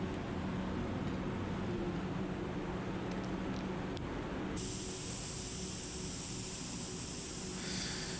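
A spray gun lays down silver water-based car paint at around 1.5 bar, giving a steady, close hiss that runs unbroken throughout and brightens partway through.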